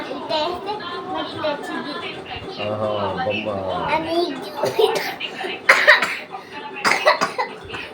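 A voice talks for a few seconds, then several harsh, close coughs from a cold break out in short bursts.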